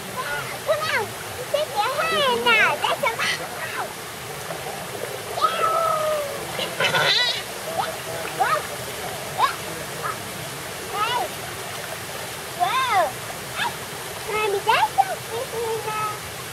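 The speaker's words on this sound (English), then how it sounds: "That water is just going to the mill over there." Mountain stream water rushing steadily toward a mill in the Smoky Mountains, a broad continuous wash with splashing, while people talk over it throughout.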